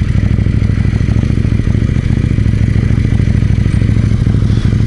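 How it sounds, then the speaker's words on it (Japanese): Kawasaki motorcycles passing close by on the road, one after another, making a loud continuous engine drone with clattering mechanical texture and no talking. "バイクが来てる。"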